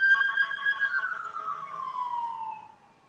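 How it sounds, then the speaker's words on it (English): A police siren wails with a clear descending pitch sweep, loud at first, then fading as it passes and trails off into quiet. "the sirens and stuff. You know how loud it get out here"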